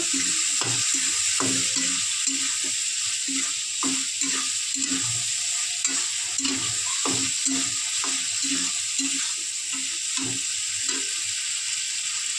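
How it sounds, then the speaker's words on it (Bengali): Spice paste of ground ginger, cardamom, cloves and sugar stirred and sautéed in a hot pan for a prawn and banana-flower chorchori, with steady sizzling under repeated scraping stir strokes, close and continuous. "দিয়ে ভালো করে মশলাটা কষিয়ে নেব"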